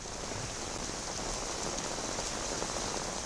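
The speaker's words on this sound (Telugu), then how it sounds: "ఢిల్లీ ఎన్సీఆర్లో భారీ వర్షం పడుతోంది" Heavy rain pouring in Delhi NCR, a constant, even hiss of drops on hard surfaces, steady throughout with no voices.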